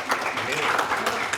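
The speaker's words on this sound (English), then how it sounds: "Round of applause for that." Applause from an audience at a Hudson community morning gathering on health and safety, a steady dense patter of clapping at moderate loudness filling the short moment, with a murmur of voices mixed in.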